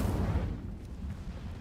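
A burst of the Incendio fire spell in the game Hogwarts Legacy, a low rumbling whoosh that fades out over about a second.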